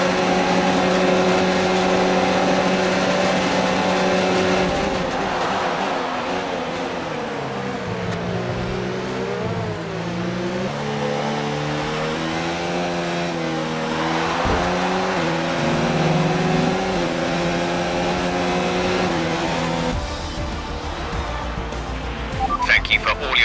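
Racing car engines in F1 2019 drone steadily at high revs, with pitch sweeping up and down as the cars run through gears and corners, loud and continuous beneath a voice talking over the radio.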